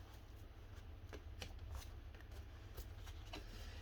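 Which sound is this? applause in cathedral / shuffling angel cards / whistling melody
shuffling angel cards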